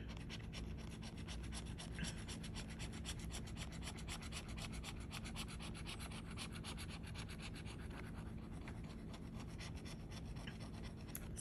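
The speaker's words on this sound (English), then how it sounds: "So, you scratching your ticket?" A Florida 100X lottery scratch-off ticket is scratched in a steady, continuous rubbing rasp that runs nearly twelve seconds, close and quiet with no talk.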